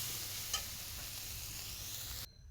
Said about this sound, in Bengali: সয়াবিনটাকে ভালো করে ভেজে নিচ্ছি